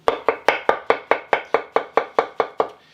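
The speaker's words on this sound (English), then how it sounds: "Cut them in half and then, just take your time and slice it." Knife slicing mushrooms thin on a cutting board for a vegan mushroom lasagna: a steady run of about a dozen crisp, close chopping taps at an even, quick rhythm, with no talk.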